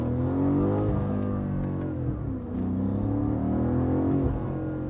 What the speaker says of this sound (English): You hear that? The M5 Darth Vader